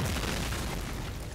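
A loud, booming in-game explosion blows something up in the World War II shooter Medal of Honor: Spearhead. The roar fills the whole moment and rumbles on without a break.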